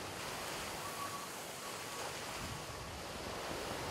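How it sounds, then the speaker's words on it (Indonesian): Heavy surf and strong wind roar in a dense, continuous wash of noise at sea off Bengkulu, where high waves are driven by winds up to 40 knots, with steady buffeting and no voices. "Ombak besar."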